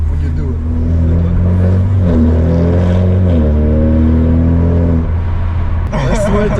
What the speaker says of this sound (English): It sounds like you have like a turbo spooling up when you do it.